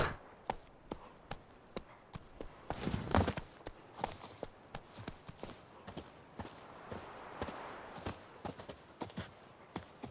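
Roach, the horse in The Witcher 3, trots with a steady, regular clip-clop of hooves that continues throughout. The hooves sound close but quiet, with a brief louder scuffle near the start.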